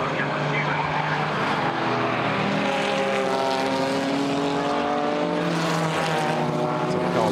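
GT4 race cars at Brands Hatch scream past in a loud, sustained engine roar, climbing and shifting pitch as they approach and pass close by, with commentary running over the top.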